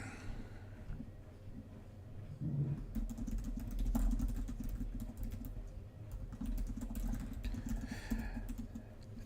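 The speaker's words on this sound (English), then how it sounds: "I'm typing notes" Computer keyboard typing, rapid irregular clicks over a steady low engine-like hum, with no talk.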